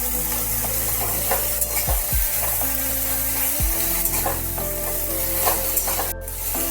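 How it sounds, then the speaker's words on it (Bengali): Cut eggplant fries in mustard oil in a wok with a steady, close sizzle. Occasional utensil clinks and stirring scrapes sit over a faint tonal hum. "কড়াইতে দিয়ে দিতে হবে পরিমাণ মতো সর্ষের তেল, কেটে রাখা বেগুনগুলো ভেজে নেওয়ার জন্য।"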